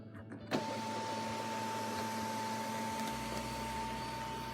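A 2019 Toyota Highlander Limited's panoramic sunroof motor whirs steadily after a soft click, a continuous electric hum running for several seconds with no talking.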